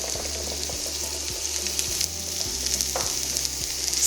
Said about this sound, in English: Once the oil and the butter is fully melted, we're going to add in our chopped onion